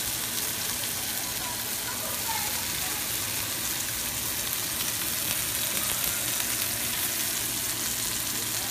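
Sirloin steak sears in a hot pan, giving a loud, continuous frying sizzle that holds steady without pause and no clear voices over it.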